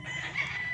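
A quality gamefowl broodstag rooster on a game farm, heard briefly in a short, fairly close, steady cry that fits a crow, alone without talk.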